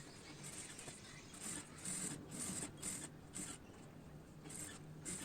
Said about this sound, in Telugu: ఈ విధంగా అయితే కుట్టుకుంటూ రావాలి నిదానంగా